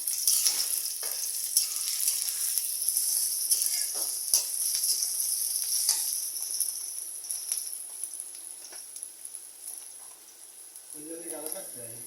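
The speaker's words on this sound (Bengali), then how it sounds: "ভাজা হয়ে গেলে তেজপাতা, এলাচি, দারচিনি, লং, গোলমরিচ দিতে হবে পেঁয়াজের সাথে। এগুলোকে পেঁয়াজের সাথে ভালো করে ভাজতে হবে।" Bay leaves, cardamom, cinnamon, cloves and black pepper fry with onions in a pan for a liver bhuna, giving a steady close hiss with crackles. Stirring scrapes come through, and a voice is briefly heard near the end.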